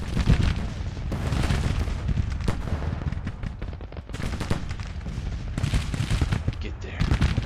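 Mississippi rifles fire in a Civil War video game battle, with dense, ragged volleys of gunshots crackling continuously and heavier booms mixed in. A voice talks over the gunfire.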